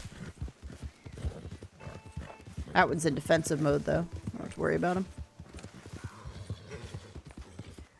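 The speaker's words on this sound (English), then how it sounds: "That guy sounds like he's on a horse" Horse hooves clip-clopping in Red Dead Online, a rhythmic run of close hoofbeats in the middle under someone talking throughout.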